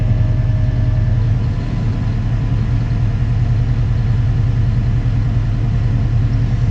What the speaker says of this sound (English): I'm going to rev up the engine a little bit, and I'm going to engage my fan